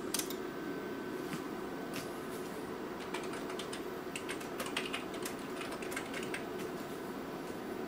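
Keys clatter in quick, uneven bursts as someone types to test a keyboard on a Burroughs Self Scan display setup, faint and close over a steady background hum, with no voices.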